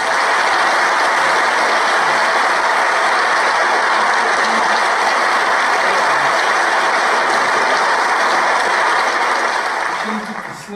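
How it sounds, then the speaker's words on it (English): A class of students applauding during a live math lesson makes a dense, sustained roar of clapping that sounds almost like heavy rain, holding loud and constant for about ten seconds before tapering at the end. "Let's get a round of applause."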